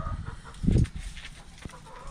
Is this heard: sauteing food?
no